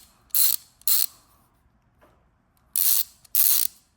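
A Craftsman 3/8 ratchet clicks in four short bursts, two early and two late, with a faint tap from its direction switch in between, crisp and close against silence.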